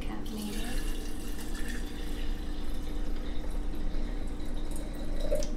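Steady water running from a tap to make chamomile tea, a continuous close rushing splash with a faint low hum beneath it.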